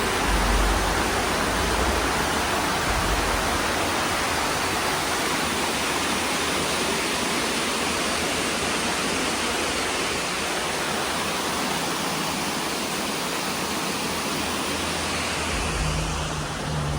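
Steady broadband roar of waterfalls at a cliff-rim lookout, loud and continuous throughout with wind mixed in and no speech.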